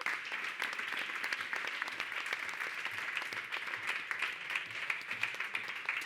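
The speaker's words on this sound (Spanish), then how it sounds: "otro aplauso para ella" Applause for a journalist moderating a round-table discussion runs continuously, an even, moderately loud patter of many hands clapping that holds from start to finish with no voices over it.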